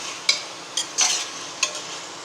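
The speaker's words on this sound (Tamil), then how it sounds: "கொஞ்சம் லேசாக வதக்கிட்டு" Salted dried meat sautéed gently with spice powders in a pan, quiet with a handful of separate scraping stirs and clinks spaced out over a faint background.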